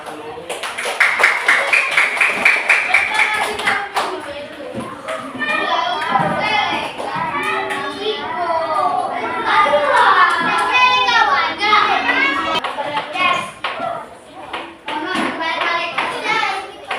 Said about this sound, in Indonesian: boleh duduk, tepuk tangan dulu.